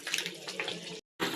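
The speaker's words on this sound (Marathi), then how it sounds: "मिक्स करून घेऊ आणि त्याच्यामध्ये थोडं पाणी ओतू" Water pours from a vessel into a pan of crab curry with a close, rushing splash that stops abruptly, then briefly resumes.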